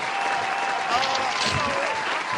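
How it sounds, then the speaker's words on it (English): A crowd applauds steadily at a poetry show, a dense wash of clapping that stays loud and even throughout. "A round of applause for the power of the tongue."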